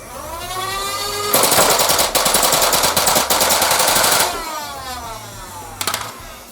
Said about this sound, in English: So if you try to fire it on full auto, it just won't consistently fire out of the gun.